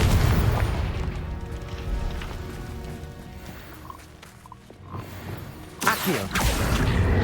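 Confringo fire-blast spell cast in the Hogwarts Legacy video game: a loud booming explosion that rolls into a rumbling decay, then a second sharp burst near the end, amid steady game ambience.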